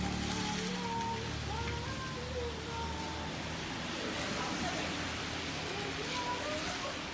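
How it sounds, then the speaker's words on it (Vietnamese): Steady rain falling during a downpour, a constant even hiss of drops on surfaces filling the scene, fairly close and continuous, with faint low voices beneath it. "下雨的天气啊，每天都下雨。"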